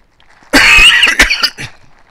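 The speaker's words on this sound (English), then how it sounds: "I'm still coughing a bit" Close, loud coughing from one person: a strong first cough followed by several shorter, fading coughs and throat-clearing over about two seconds.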